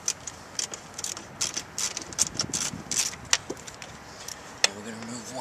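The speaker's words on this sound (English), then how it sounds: "We want to go back to our Phillips screwdriver. Remove one screw here that's exposed from dropping the glove box." A Phillips screwdriver backs out a screw behind the dropped glove box of a Honda Civic, giving light clicking, scraping turns up close with scattered small knocks and no voices.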